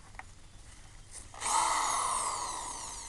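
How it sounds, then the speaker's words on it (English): A hand auger bores into screened, incinerated material, starting as faint scraping and then swelling into a sustained, gritty rasping whir that slowly fades. It is heard close up, with no talking. "got my auger."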